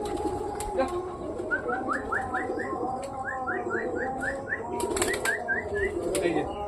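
Pet pigeons of desi and chotial breeds coo in repeated soft rising phrases through a loft, with occasional bursts of wing flapping and faint chirps over steady background noise.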